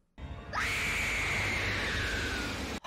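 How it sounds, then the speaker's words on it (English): A woman's long, high scream from a Buffy the Vampire Slayer episode, loud and sustained for over two seconds, with a rising onset and a steady shrill tone laid over background score. "that scream did not match her face"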